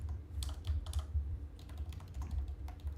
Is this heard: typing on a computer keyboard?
yes